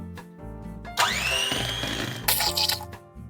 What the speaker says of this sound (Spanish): Y volvemos a batir para integrar todo.